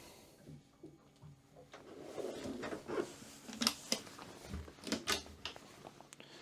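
A cutlery drawer on a Jeanneau Merry Fisher 1095 Flybridge boat slides and knocks, with cutlery clinking and rattling in a few sharp bursts against a quiet room.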